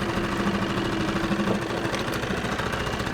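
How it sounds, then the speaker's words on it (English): Boat engine idling at anchor, a steady close mid-pitched rumble with a slight knocking pulse that holds at constant loudness throughout. "I'm just going to turn the engine off now"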